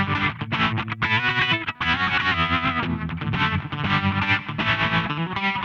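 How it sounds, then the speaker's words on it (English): A guitar runs through the simple reverb of an SSL Module 8 processor, giving a loud, continuous stream of distorted, chorused chords with a washy, sustained tail and no pauses. "There's a simple reverb as well."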